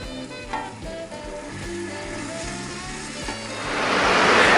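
White dry wine hitting a hot pot of onions for French onion soup, a steady close sizzle and bubbling that swells louder toward the end, with no talking.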